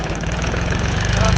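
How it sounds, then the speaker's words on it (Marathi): A Swaraj tractor engine runs at a steady, loud, throbbing idle close by, its low rhythmic chug continuous and unbroken from start to finish. "मित्रांनो आपण ट्रॅक्टर लावून आलोय,"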